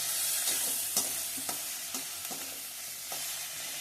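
Okra, coriander and curry leaves fry in a pan with a loud, continuous sizzling hiss, punctuated by regular scraping strokes of stirring about every half second.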